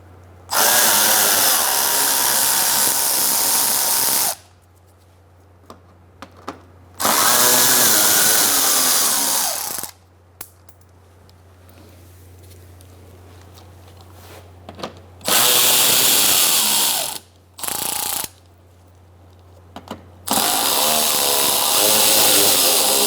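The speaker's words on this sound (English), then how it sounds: "Using an 8mm socket, we're going to take out these bolts." Cordless power tool driving an 8mm socket to remove splash shield bolts on a 2004-2009 Mazda 3, several loud bursts of a few seconds each separated by pauses.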